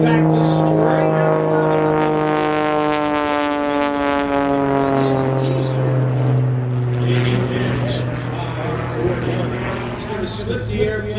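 Propeller engine of an aerobatic airplane at the 2011 West Milford air show, a loud steady drone whose pitch sweeps downward as the plane slips and bleeds off airspeed, with a commentator talking over it.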